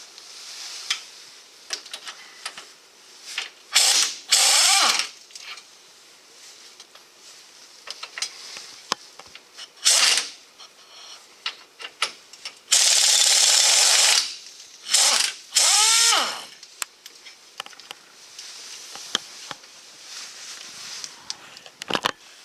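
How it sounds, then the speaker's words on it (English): A power tool, an impact wrench, removing U-bolt bolts from the rear axle of a GMC Sierra, in several loud, close bursts of a few seconds each between quieter ratcheting clicks and pauses. "now we're just removing the last bolts from the passenger side"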